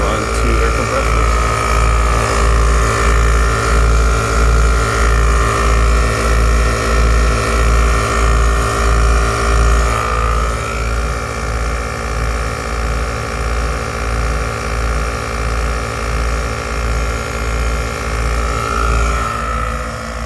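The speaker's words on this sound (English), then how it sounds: "What you hear in the background is the air compressor going." An air compressor mounted in the back of a truck runs steadily, with a low rhythmic pulsing throb and a constant mechanical hum that carries on throughout with no pause.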